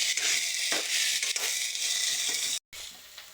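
Chicken pieces fry in a pan while being turned over, a bright hissing sizzle mixed with scraping stir strokes, close by, with a brief gap near the end.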